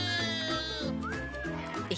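Several sheep bleat in wavering, drawn-out cries, one after another, fairly close and moderately loud with no talking.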